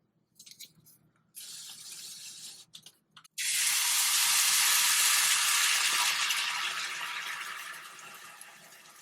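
Batter hits hot olive oil in a pan and breaks into a loud, bright sizzle that holds steady and slowly fades, after a few short drips and clinks.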